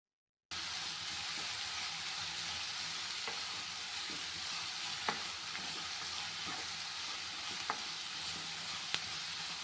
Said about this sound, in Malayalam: അപ്പോൾ നമുക്ക് സവാള നന്നായിട്ട് വഴറ്റിയെടുക്കാം